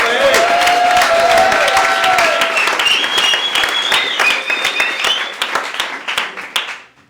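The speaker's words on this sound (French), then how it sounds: "je verrais bien un tonnerre d'applaudissements" Thunderous applause from a theatre audience at an improv comedy show, dense sustained clapping with some cheering and whistles, loud and close, thinning out and fading toward the end.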